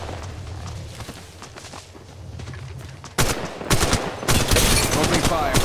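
Gunfire in Apex Legends Mobile, quiet at first, then loud, dense shots crackle near and keep going to the end.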